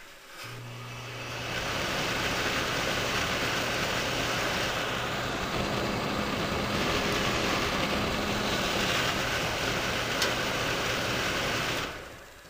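A fan-forced radiant heater's fan runs with a steady, fairly quiet broadband whoosh and a low hum, switching on near the start and cutting off near the end.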